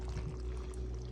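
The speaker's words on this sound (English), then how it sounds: "So now we're going to pour this on there" Thick molasses sauce pours onto beans being prepared for home canning, a steady, soft, low liquid flow with continuous gurgling, close and moderately quiet, heard alone without any talking.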